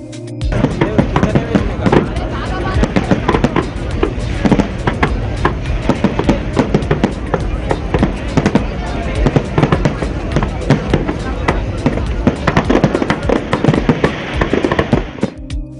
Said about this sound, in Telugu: మోత పుట్టించిన టపాసులు